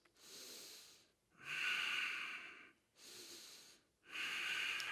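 Audible breathing during a yoga flow workout: four long, airy breaths alternate in a slow inhale-exhale rhythm, close and clear, with brief pauses between them and no talking.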